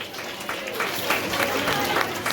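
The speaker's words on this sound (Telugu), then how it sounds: "ఒక్కసారి గట్టిగా చప్పట్లు." An audience at a subscriber meet claps loudly, a steady crowd applause filling the short moment with a faint voice underneath.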